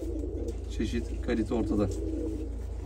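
Domestic pigeons coo at a farm in a few soft, rolling bursts, with someone talking over them the whole time and a steady low background rumble underneath.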